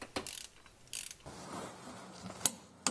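A ratchet tightens a screw to 40 Nm during timing belt work on a Renault Mégane 1.5 dCi K9K engine, giving a few short mechanical clicks and ticks, with two sharp louder clicks near the end, close by with no talk.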